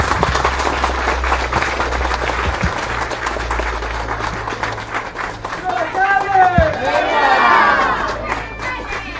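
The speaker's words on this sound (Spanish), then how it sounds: "¡Un fuerte aplauso!" A crowd at the inauguration of a water purification and bottling plant breaks into loud, dense clapping and cheering, with voices calling out over the applause throughout.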